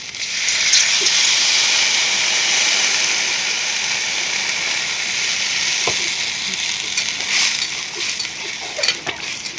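Loud, steady sizzling hiss as water hits a hot pan, staying strong for nearly ten seconds with a few small pops and clicks toward the end.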